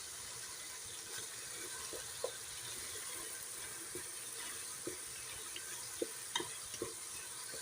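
Tomato and garlic frying in a pan, giving a continuous soft sizzle with occasional light clinks and scrapes from stirring, quiet and close, with no talking.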